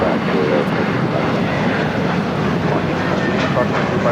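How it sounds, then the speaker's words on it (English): American Airlines Airbus A321 taking off from Los Angeles airport, a loud, close, dense jet roar filling the whole short stretch, with some voices nearby. "This is American Airlines 1632 taking off to Boston on the A321."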